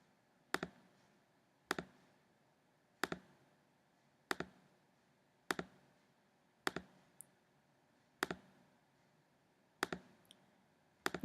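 Button clicks on a TI-Nspire calculator while plotting polygon points: nine crisp, isolated clicks at an even pace about one per second, close and clear against near silence.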